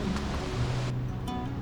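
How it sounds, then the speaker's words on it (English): Rough water rushes steadily along a river in the Yosemite backcountry, a constant broadband roar close by, with no voices over it. "It's amazing how rough the water is just on the other side of that."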